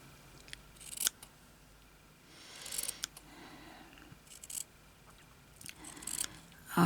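Scissors snipping through fabric on a slow-stitch journal cover, a few quiet separate cuts spread out at close range, with no talking.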